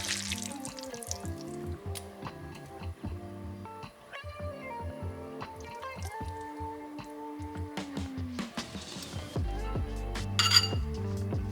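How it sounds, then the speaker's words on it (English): Butternut squash pasta is served into bowls with clinks of cutlery and dishes and soft wet plops. Tonal music plays over it throughout and no one speaks. "let's add this nice yummy saucy pasta"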